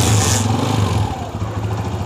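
A motorcycle, being tested for an overheating problem, is kick-started and its engine idles with a steady, close, loud putter, with a brief higher burst at the start.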